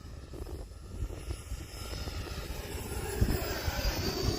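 Steady whooshing roar of an E-flite Viper 90mm EDF jet RC plane in flight, carrying over breezy outdoor noise and swelling slightly as it passes.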